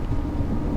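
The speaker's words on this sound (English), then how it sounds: "the rain is getting heavier" Heavy rain and a low thunder rumble from the horror game Detective Rainy Night fill a brief, loud, dense wash of noise.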